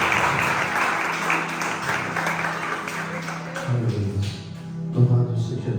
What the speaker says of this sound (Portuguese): As palmas que nos recebem.